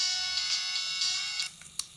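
A cell phone plays audio that is picked up through an LED radio transmitter. A thin, bright, steady sound holds for about a second and a half, then breaks into a few faint clicks and a short blip.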